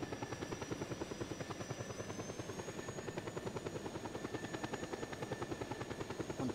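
A helicopter sets down on snow in the video game Just Cause 2, its rotor chopping in a loud, steady rapid rhythm with a high engine whine on top, no voices over it.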